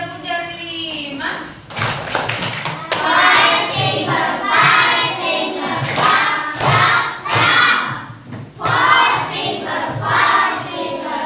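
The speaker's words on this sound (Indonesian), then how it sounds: "Oke, tepuk jari 5." In a classroom, a group of children chant a counting clap game in unison, with sharp rhythmic hand claps and thumps punctuating their loud, close voices.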